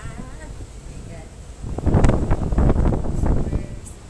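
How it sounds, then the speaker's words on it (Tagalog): A strong gust of wind builds and roars across the microphone, rising partway through and staying loud, over a quieter windy background. "Super lakas ng hangin at super lamig."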